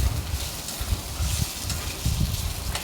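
A spoon stirs a half poppy seed, half coconut paste sautéing in a pan for moong dal with pointed gourd, giving low scraping strokes in an uneven rhythm over a steady soft sizzle, close up.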